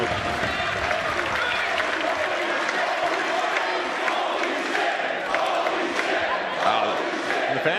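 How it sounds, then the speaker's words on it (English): A capacity wrestling crowd at the Globe roars, cheers and applauds continuously, a dense, loud wall of noise with no breaks, with a commentator's voice faintly mixed in. "the capacity crowd here at the Globe, blown away by the athleticism of Adam Brooks"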